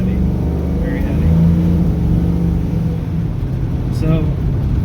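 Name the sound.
car driving after quick ratio steering box upgrade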